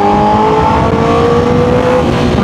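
A 2023 Honda CBR1000RR-R Fireblade SP sport motorcycle engine hums loudly and steadily close by, its pitch climbing gradually as it revs under a constant wind rush while riding.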